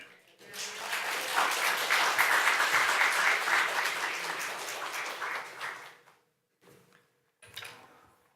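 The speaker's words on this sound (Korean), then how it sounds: "여러분들 환영의 박수로 맞으시면 고맙겠습니다" A church congregation applauds to welcome a pastor, swelling quickly into sustained clapping for several seconds before tapering off to a few scattered claps and quiet.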